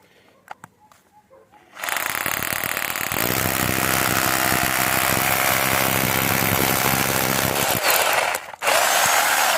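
Loud, continuous drilling by a Dnipro-M RH-12 rotary hammer through 6 cm thick tile, starting after a couple of seconds of quiet, grinding steadily, and pausing briefly before resuming.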